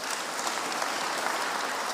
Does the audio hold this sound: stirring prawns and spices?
no